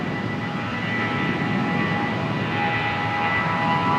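A Qantas jet rolls for takeoff on runway 01 left at Brisbane Airport, its engines giving a steady, broad roar that holds constant and slightly swells throughout.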